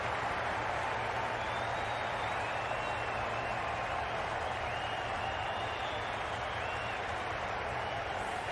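A cricket stadium crowd at DY Patil Stadium applauds a departing batter after a supreme batting display, a dense, sustained roar of clapping and cheering with whistles, steady throughout and fairly loud.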